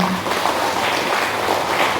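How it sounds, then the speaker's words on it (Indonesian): A gathered congregation breaks into applause, a dense steady wash of clapping hands filling the room without pause. "Tepuk tangan buat kita semuanya"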